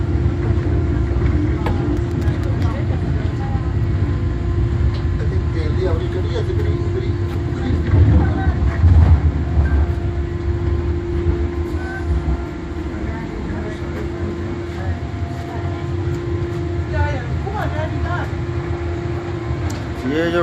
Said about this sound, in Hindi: ये जो ट्रेन गुजरी है ये हॉलैंड से आई है